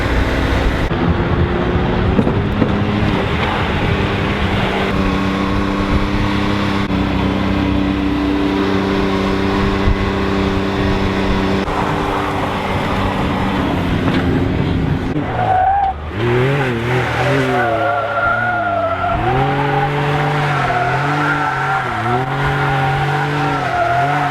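A Can-Am off-road vehicle driven hard, its engine revving and sustained tire skids squealing loudly, with rising and falling engine tones across most of the stretch.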